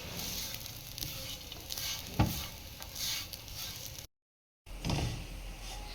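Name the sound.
coconut roasting in ghee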